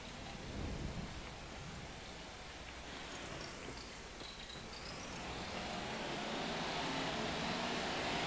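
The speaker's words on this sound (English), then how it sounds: "I still hear rain." Steady rain in Farming Simulator 25, a constant hiss of drizzle that swells louder toward the end, with a low rumble early on.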